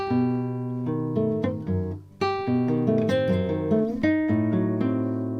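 A clean guitar plays a chord-melody phrase from an arrangement, ringing chords with single melody notes moving on top, steady rhythm with a brief pause midway.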